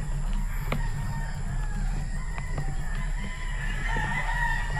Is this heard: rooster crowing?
yes